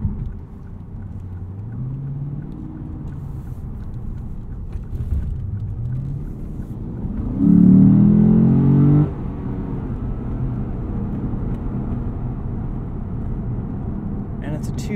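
Steady low cabin rumble of a 2019 Lexus GS F 10th Anniversary Edition cruising under 2,000 RPM on its 8-speed transmission, with a brief swell of engine note midway.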